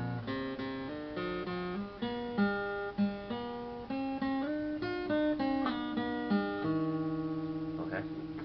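An acoustic guitar picks out half the verse of a Hmong song, with a steady run of clearly plucked single notes, fairly quiet and close, with no talking.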